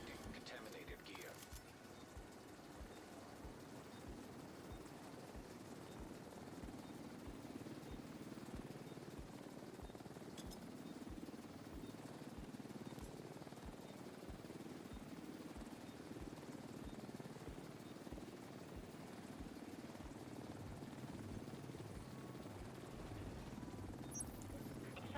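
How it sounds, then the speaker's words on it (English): An extraction helicopter in The Division 2 video game thrums faintly and steadily in the background for a long stretch, with quiet game sounds over it. "Helo is headed back."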